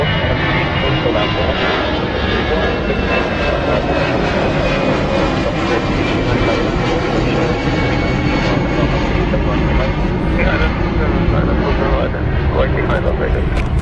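Jet aircraft at London Heathrow, a loud, continuous engine roar with a faint whine sweeping through it as a plane passes nearby, held steady for the whole stretch with a voice talking over it.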